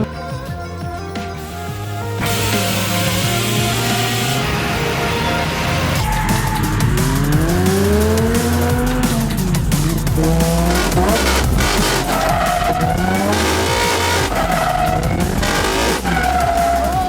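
Drift car tires squeal in long, sweeping wails at an amateur drifting event on a police academy course in Houston, Texas, over a loud, steady engine roar that rises and falls as the car slides.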